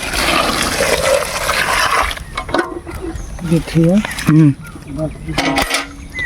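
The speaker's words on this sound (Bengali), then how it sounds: "জল দিয়ে পরিষ্কার করা হচ্ছে মাছগুলো" Freshly caught pond fish are rinsed with water, giving a couple of seconds of close, steady splashing and pouring, then voices talk over quieter water sounds.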